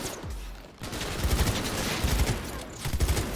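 Gunfire in the video game Cyberpunk during a shootout, dense rapid bursts of shots crackling in close succession, loud and continuous for a few seconds with brief gaps between volleys.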